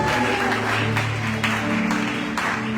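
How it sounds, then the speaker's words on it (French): A church congregation claps and cheers together during a sermon, dense continuous applause filling the room with a steady, close, even level throughout. "Est-ce qu'on peut acclamer pour la joie?"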